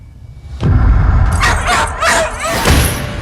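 A dog barks and yips in a movie scene, several loud, close barks over a rumbling background, with faint whimpering between them.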